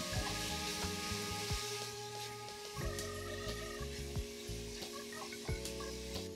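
Bite-sized bacon chunks frying in a pot for seafood chowder, making a steady, fairly loud sizzle with occasional louder pops and scrapes.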